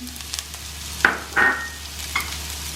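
Green chili dropped into a hot pan with softened onions for beetroot rice, giving short bursts of sizzling and stirring scrapes over a low steady hum, a few distinct spurts rather than a continuous fry.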